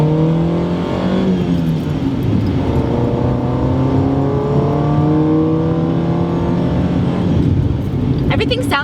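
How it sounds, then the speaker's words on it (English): A Honda EK with an AEM intake revs repeatedly, its pitch sweeping up and falling back in several loud, close rises, with a sharp burst at the end. "I'll try to rev it out a little bit."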